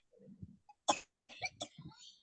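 A person coughs a few times, short sharp bursts in a quiet room, with a brief spoken word or two mixed in.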